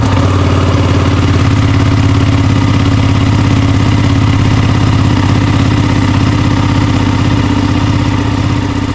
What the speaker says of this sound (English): this is a 2016 959 Panigale. Bought this one brand new, and we'll go ahead and we'll do a cold start right here.